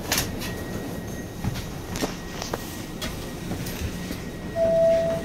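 A Merseyrail passenger train runs along the track between Headbolt Lane and Liverpool Central, heard from inside as a steady rumble with clicks and clacks from the wheels over rail joints, plus a brief tone near the end.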